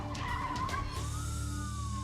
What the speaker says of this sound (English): The suspect's car ran a red light and crashed into another vehicle.